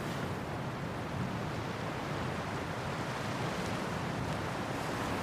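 Sea waves wash continuously onto a beach, a steady broadband surf roar with some wind noise, moderately loud and unbroken throughout, with no voices.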